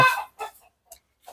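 Young chickens clucking in a farm pen with an earth floor, a loud squawk followed by a few short, scattered clucks, close by, with no talking.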